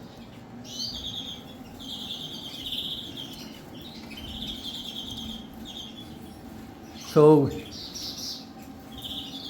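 Hen canaries in an aviary chirp and twitter in repeated high, thin bursts at a moderate distance, and someone briefly speaks partway through.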